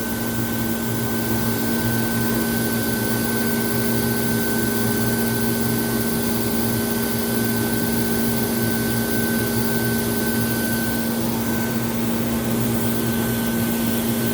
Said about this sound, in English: Drop the nozzle, begin the heat welding process.